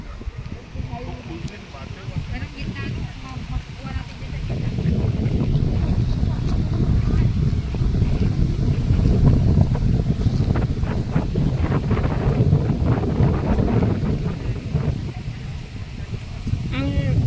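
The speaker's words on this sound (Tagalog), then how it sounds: "Mahangin talaga eh." Strong wind buffets the microphone in heavy, gusting roars that build and ease, with people talking faintly underneath.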